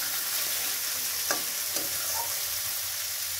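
Spice paste for a hilsa fish curry frying in oil: a steady close sizzle with a couple of sharp spoon scrapes near the middle, and no talking.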